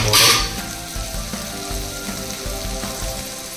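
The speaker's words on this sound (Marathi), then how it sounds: "वाटाणा कमी गॅसवर 3 ते 4 मिनिटं चांगला फ्राय होऊन घ्यायचा" Green peas with fenugreek sautéing over low heat in a pan, a steady close sizzle with a louder hiss burst at the start and soft stirring scrapes throughout.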